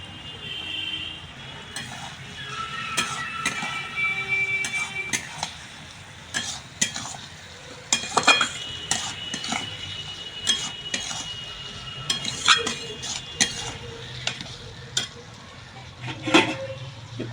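Fried potatoes are tipped into a pan of fulai fish curry with spices and are stirred with a utensil, giving scraping and clinking knocks over a soft sizzle, close and moderately loud with no talking.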